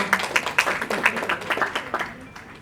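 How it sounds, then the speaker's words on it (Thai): Applause from the audience at a press conference for the CP-Meiji CUP U-14 international youth football tournament, a brisk run of many hands clapping close by at a lively, uneven rhythm. "ขอเสียงปรบมือหน่อยครับ"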